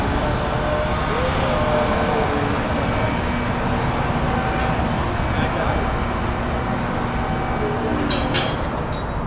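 A Honda Civic with a $31 muffler delete running close by, its exhaust a loud continuous raspy drone with no break.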